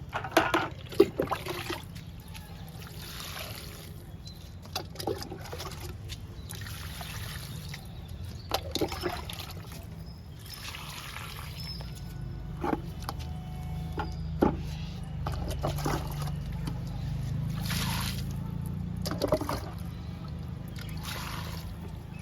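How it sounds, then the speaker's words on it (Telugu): Water trickles and splashes onto chrysanthemum plants over a long stretch, with soft irregular pours and occasional louder splashes against a low steady background. "ఇప్పుడు ఫర్టిలైజర్ ఇచ్చాం కాబట్టి వాటర్ ఇచ్చేద్దాము"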